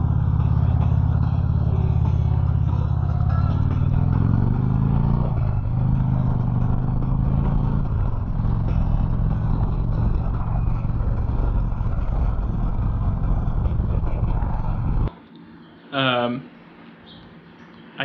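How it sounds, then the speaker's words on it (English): A Harley-Davidson Street Glide Special with newly installed handlebars rumbles steadily while being ridden, its engine drone shifting as it changes speed, loud and close, before dropping away near the end; wind noise may mix into the engine sound. "So what I'm going to do is insert a clip of me riding"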